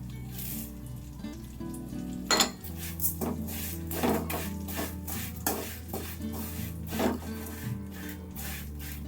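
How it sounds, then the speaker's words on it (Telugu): Vermicelli fried over a medium flame is stirred in a pan, giving repeated close scraping strokes at a fairly even pace over a quiet background hiss. "మీడియం ఫ్లేమ్లో మనం ఫ్రై చేసుకోవాలన్నమాట."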